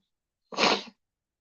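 A single close, forceful sneeze bursts out of silence, lasting under half a second, with quiet before and after.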